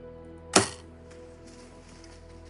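A bow fires at a deer during a hunt, giving a single sharp, close thump-release with a short rattle, followed by quiet outdoor background.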